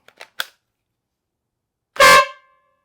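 A few faint clicks, then a sudden loud, brassy train air horn blast, powered by a drill, with a stacked harmonic tone that holds for about half a second and cuts off.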